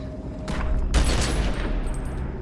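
Gunfire in the video game Secret World Legends: a short burst of sharp, loud shots that cuts through a dense, rumbling game soundscape, followed by a brief high ringing tone. No one speaks.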